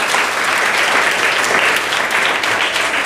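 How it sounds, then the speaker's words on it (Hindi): Loud, dense applause from an audience right after a Hindi poem recitation, steady and sustained for the full three seconds with no break and no voices on top. "तालियां"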